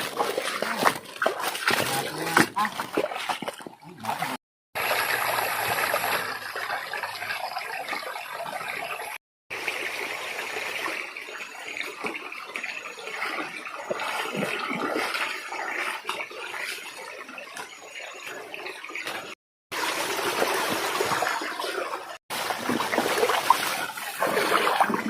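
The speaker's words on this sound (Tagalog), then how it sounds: "Sapa lahat daanan natin." A mountain stream flows and splashes continuously up close, a broad rushing wash of water broken by a few abrupt cuts, with occasional sloshing as someone moves through it.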